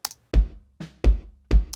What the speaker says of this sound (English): Then if I add the second bass drum and I turn that EQ on,